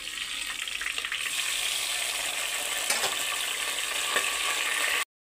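Tomatoes frying in oil in a pan for Hyderabadi-style chicken leg piece biryani, making a steady, dense sizzle that carries on unbroken at moderate level and then cuts off abruptly, with no talk.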